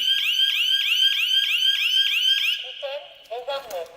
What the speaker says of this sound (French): si nous armons notre alarme, et puis nous décalons, nous avons l'alarme également qui signale